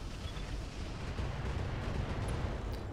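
Artillery strike in the BattleTech mod Roguetech: a continuous heavy rumble of explosions and booming fire, dense and sustained at close range with no talk.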